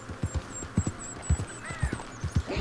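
Horse hooves clip-clop in a steady walking rhythm on a mountain trail in the Red Dead Redemption 2 video game, moderately loud thuds under a faint high tone and a brief chirping call.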